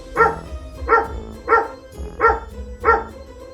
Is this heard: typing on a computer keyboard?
no